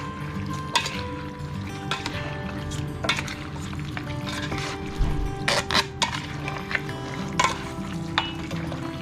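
Ginger chicken being stirred and mixed in a pan for a Thai dish, with a soft sizzle under repeated scraping and clinking of a utensil against the pan, close and steady throughout.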